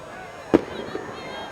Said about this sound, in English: More fireworks going off in the background.